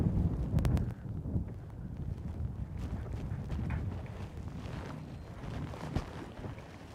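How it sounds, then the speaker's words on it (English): Wind blows steadily across a bass fishing boat on open water, a continuous low rumble of buffeting against the microphone that stays at an even, moderate level throughout with no talk. "We definitely stepped into the wind."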